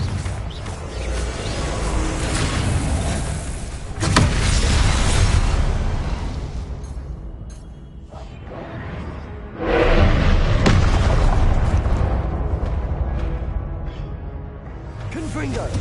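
Blasting-spell explosions from Hogwarts Legacy gameplay: deep booming bursts with whooshing tails, a loud one near four seconds and another near ten, over a continuous dense game soundscape with voices.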